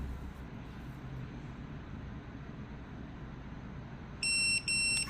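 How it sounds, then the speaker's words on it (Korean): A low hum of background noise, then two short, sharp electronic beeps from cordless shears signaling their safety lock release near the end, loud and close. "삐삐 소리 났지"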